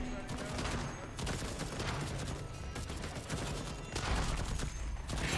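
Automated turret opening fire in the video game Deathloop, a sustained rattling fusillade of gunshots filling the scene with steady density and a louder burst near the end.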